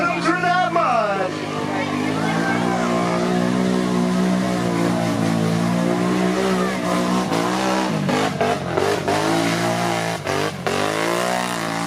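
ATV engines rev hard and rise and fall in pitch as the quads churn through deep mud at an extreme mudding event, loud and close, with a crowd voice shouting over the engines.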